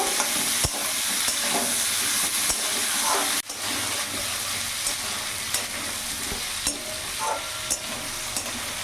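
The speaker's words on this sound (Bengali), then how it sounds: "ভালো করে নাড়াচাড়া করে কিছুক্ষণ ভেজে নেব" Carrot, radish, potato and beans fry in a pan while being stirred, with a steady close sizzle and scattered scraping clicks throughout and no voices.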